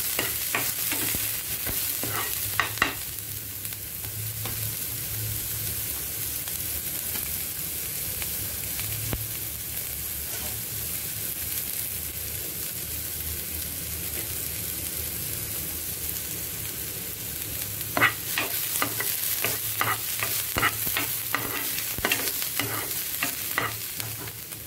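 Chopped onions fry in a pan for quinoa khichdi, sizzling steadily while a spoon stirs and scrapes them at intervals. Louder clusters of stirring clatter come near the start and toward the end.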